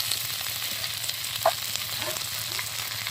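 Onions fry in oil for a country chicken curry, giving a steady close sizzle with a faint scrape or clink of a stirring utensil in the pan, and no voices.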